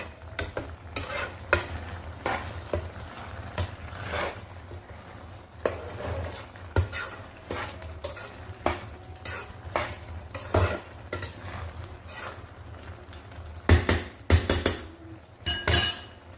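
Fried bean seeds are stirred into greens cooking in a pan with a soft underlying sizzle. A metal spoon scrapes and clinks against the pan in irregular bursts, louder toward the end, with no talking.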